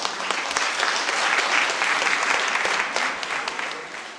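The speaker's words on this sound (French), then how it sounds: "Donc je vous applaudis et félicitations." Steady applause from a crowd, dense clapping filling the room for several seconds before tapering slightly at the end.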